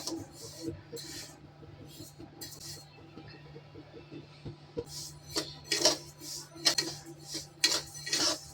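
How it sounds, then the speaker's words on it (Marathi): Dry barnyard millet (varai rice) roasting in a pan over medium heat, with scattered metallic scraping and clinking strokes that grow busier toward the end, while someone speaks over them. "वरईचे तांदूळ स्लो गॅसवर, मीडियम गॅसवर भाजून घेते मी 10 मिनटं"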